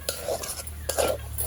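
A spoon scrapes through a rice laddu mixture with grated coconut in a pan, making a few distinct stirring strokes with soft clinks over a quiet, steady cooking hiss.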